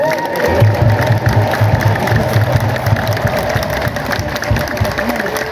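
A crowd at a church building inauguration claps and ululates together in a sustained, lively roar of applause and high trilling voices, with a low rumble underneath.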